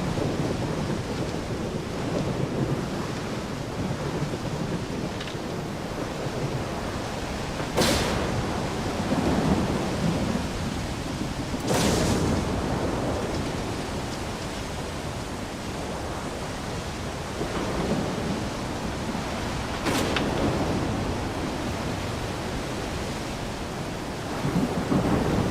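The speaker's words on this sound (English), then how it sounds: "Storm's coming in again" A thunderstorm in the game Stalker 2, with steady rain hiss throughout and several sharp thunder cracks and rolling booms spaced across the stretch, loud and close, with no voices.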